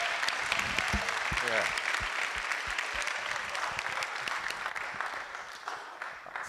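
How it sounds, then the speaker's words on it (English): An audience at a community forum on redistricting applauds a student, steady clapping throughout with a few brief voices and a short spoken word mixed in near the start, fading slightly toward the end. "Give her another round of applause."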